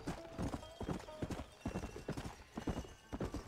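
Quick clip-clopping horse hooves in Red Dead Redemption trot in a steady rhythm, fairly faint, with a slightly artificial, game-like quality.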